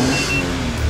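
Honda D17B engine in a minivan fitted with a modified exhaust pipe, a steady deep rumble running close and loud for the full second with no talk over it.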